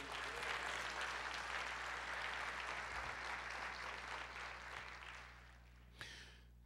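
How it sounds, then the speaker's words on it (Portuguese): A congregation applauds in a church service, a broad wash of many hands clapping at moderate distance that gradually thins, with a low steady hum beneath and a brief knock near the end. "Você pode aplaudir o Senhor e dizer, eu creio."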